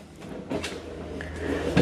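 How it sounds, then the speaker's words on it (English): Soft-closing kitchen drawers and cabinets in a Redwood Regency 3881FKL destination RV slide and settle shut with a few muffled, gentle thuds and light rolling, close by and without talk. "Nice soft closing drawers and cabinets everywhere."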